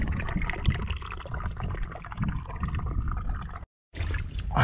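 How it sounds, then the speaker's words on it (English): Water in a coastal rock pool sloshes and splashes close by in a continuous, irregular wash. It is broken by a brief moment of silence before the splashing resumes, with no talking. "I heard a splash in here"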